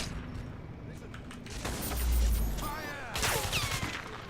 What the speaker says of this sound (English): Oh, a grenade.